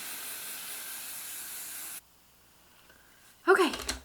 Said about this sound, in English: spray the heck out of it